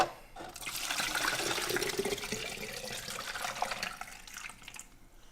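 Homemade apple pie moonshine is poured from above into a glass mason jar as a steady, splashy liquid stream that runs for several seconds and then tapers off, with no talking.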